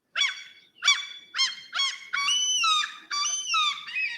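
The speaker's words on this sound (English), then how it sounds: "These are Malmö seagulls." A run of loud, harsh seagull calls in Malmö close by, several quick squawks followed by longer drawn-out wailing cries.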